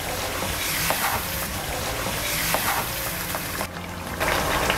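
Spices and tomato paste fry in a pan for a chicken and chickpea curry, giving a steady, dense sizzle throughout with faint stirring scrapes and no talking.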